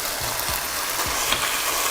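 Ground beef sizzles steadily in a hot pan, a constant hiss with a few soft scraping stirs breaking through at intervals.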